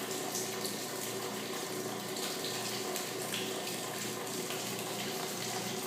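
A repaired washing machine drains its water in a steady, loud rushing flow, a continuous close gush like a running tap, with no talking.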